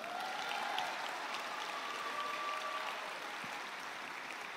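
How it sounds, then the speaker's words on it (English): Sustained applause from a large crowd of graduating classmates at a high school commencement, steady dense clapping filling the whole stretch at moderate distance, a faint whistle briefly rising above it. "Can my dear classmates stand up and give a round of applause?"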